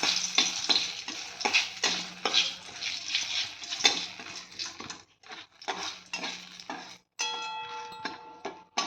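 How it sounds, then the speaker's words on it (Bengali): A bay leaf and a dried red chili fry in hot oil in a pan with a close crackling sizzle, broken by repeated metal clinks and scrapes of a spoon, a brief pause, and then a bright metallic ring. "এখানে দেবো তেজপাতা আর একটা শুকনো লঙ্কা"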